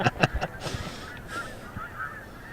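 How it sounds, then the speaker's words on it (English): Geese honking outdoors in a short burst of several loud calls at the start, then quieter, more scattered honks fading under background noise. "Hey, there's some geese over there."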